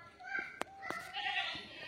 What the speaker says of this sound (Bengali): এটা হলো তুতাপুরি ছাগল।